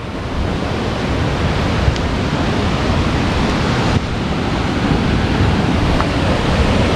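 Dudhsagar waterfall in the Western Ghats thundering as a loud, unbroken roar of rushing water, a dense wash of noise filling the whole stretch without pause, with no one speaking.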